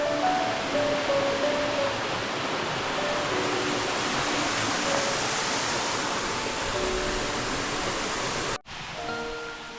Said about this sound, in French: On vient explorer une autre cascade.